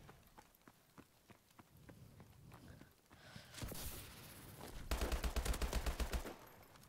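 Gunfire in Call of Duty Advanced Warfare, sparse sharp shots at first, then a rising rumble and a rapid automatic burst near the end, moderately quiet with no voices.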